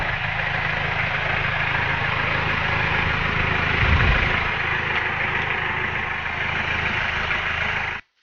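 A Yamaha Pacer big bike sits idling nearby, its engine giving a steady, even low rumble that holds for about eight seconds before cutting off abruptly, with no talk over it.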